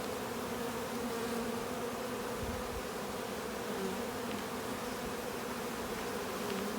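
Honey bees packed into a shipping package hum in a steady, continuous drone, a dense swarm buzz holding at an even level throughout with no voices.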